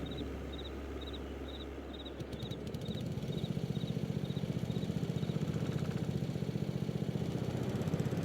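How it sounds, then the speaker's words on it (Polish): A riding lawn mower's engine starts puttering in a rapid, even rhythm as it drives out across a farmyard, steady and fairly near, while insects chirp in a regular pulse in the background. "no to wyjeżdżam kosiarką"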